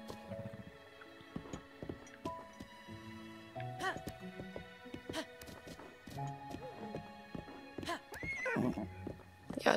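A horse in The Legend of Zelda: Breath of the Wild whinnies and neighs several times, close and loud. Its hooves clop at intervals throughout among other game sound effects.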